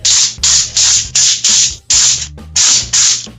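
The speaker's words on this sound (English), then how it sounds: "olive oil, little avocado oil spray." Olive and avocado oil cooking spray hisses onto parchment paper in a pan, eight short close bursts in a quick, even rhythm with brief gaps between.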